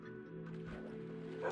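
A dog barking in the Minecraft video game, one short, faint bark-like yip standing alone over a soft background hum.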